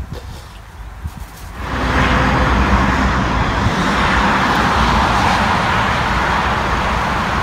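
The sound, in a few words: road traffic in a traffic jam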